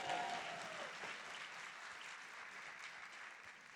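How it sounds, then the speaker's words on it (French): A church congregation applauds for the pastor's wife with steady, continuous clapping that stays moderately loud and fairly even from start to finish. "Est-ce que vous pouvez acclamer pour ma femme?"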